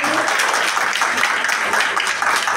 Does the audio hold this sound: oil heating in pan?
no